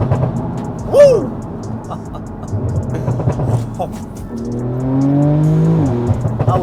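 Porsche 991 Turbo S engine during a morning road test, a short rev early on, then a strong surge of acceleration building steadily from inside the car, with people talking over it.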